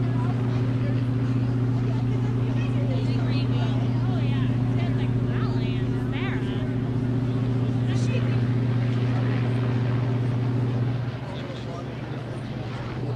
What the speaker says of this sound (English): Did the motor sound like this?